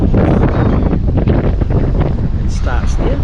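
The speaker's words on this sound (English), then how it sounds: "It's fucking windy." Strong wind at Tolaga Bay buffets the microphone in a continuous loud rumble, close and gusty throughout, with a brief higher whistle near the end.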